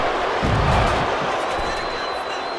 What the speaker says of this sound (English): The crowd is almost getting too loud for my ears